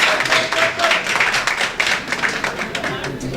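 An audience at an official ceremony breaks into enthusiastic applause, a loud, close, continuous patter of many hands clapping with uneven bursts and no speech over it.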